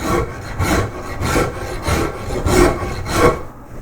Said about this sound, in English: when you use the rasp, make sure you come around and don't just go in a straight line